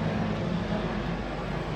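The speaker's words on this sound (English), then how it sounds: "We have the windows open at the beach and a helicopter just flew by." A helicopter passing near a beach, heard through an open window as a steady, fairly loud broadband rumble that holds evenly throughout without a clear rise or fade.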